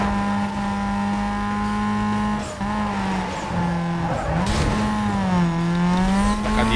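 A Fiat Marea races with nitro boost in Need for Speed Most Wanted. A loud, steady engine drone rises and dips in pitch, with brief tire squeals and revving toward the end.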